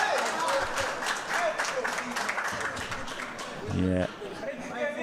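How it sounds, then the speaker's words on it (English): A crowd applauds at a pool match, the clapping dense and steady before it stops abruptly near the end. "the round of applause coming at a very inopportune time for Graig Waddingham."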